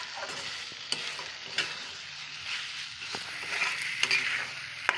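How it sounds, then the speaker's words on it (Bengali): Meat being stirred and slowly sautéed in a pan in a home kitchen: a steady sizzle with scraping stir strokes throughout, no voices. "ভালো করে মা মাংসটা এখন একটু কষিয়ে নিচ্ছে"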